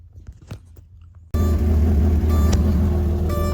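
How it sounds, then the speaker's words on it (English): A first-generation Porsche Cayenne's engine idles after starting, a steady loud rumble that cuts in abruptly after a quieter stretch of faint knocks, with no speech. "Okay, I've already started the car"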